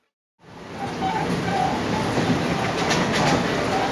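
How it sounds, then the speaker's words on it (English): Train noise in Indonesia as the train stops at a station. A loud, steady rumble and hiss starts abruptly and holds, with faint chirps and clatter over it. "The doors on this train just opened at a stop"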